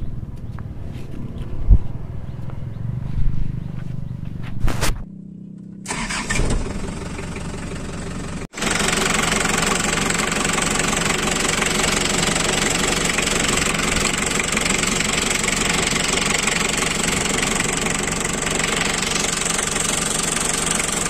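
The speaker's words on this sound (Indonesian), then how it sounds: "Kita coba dengar suara mesinnya." Daihatsu Fourtrak 4x4 turbo diesel, a Taft GT, being started and settling into a steady, clattering diesel idle heard up close, after some handling noises and a brief quiet gap.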